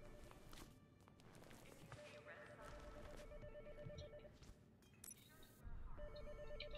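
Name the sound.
telephone ringing in the video game Hitman Absolution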